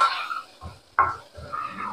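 Spiced moong dal with salt being sautéed in a pan over a low gas flame: a few short metal scrapes and clinks of the stirring spoon against the pan, close and brief, with no steady sizzle.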